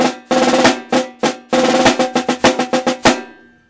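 Seven-stroke snare drum rolls are played as crisp, close bursts of rapid strokes, several short rolls in a row separated by brief gaps.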